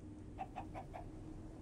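Four quick soft clucks from a chicken in a Minecraft modpack game, evenly spaced and faint over a low background hiss.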